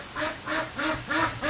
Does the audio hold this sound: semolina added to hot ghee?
no